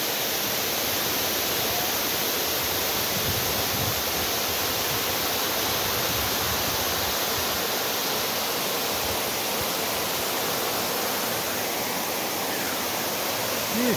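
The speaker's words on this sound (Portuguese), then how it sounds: "Cachoeira." Steady broadband roar of a waterfall in the Serra de Itaipava, continuous and even throughout with no pauses, close and full.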